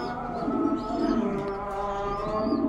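A racer pigeon in a home loft gives soft, low cooing in a steady, close murmur, with other pigeons and faint chirps in the background.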